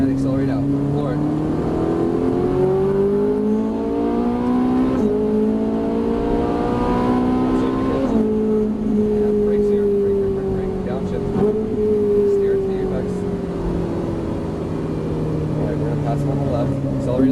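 A Ferrari 458 Italia accelerates hard around a racetrack, its engine note climbing steadily in pitch, dipping with each shift and rising again, loud and close throughout without a break.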